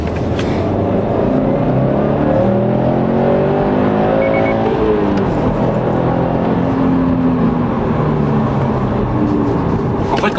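A Subaru turbocharged engine revs hard while accelerating, its droning note climbing and sweeping in pitch as the turbo kicks in, loud and continuous from inside the car.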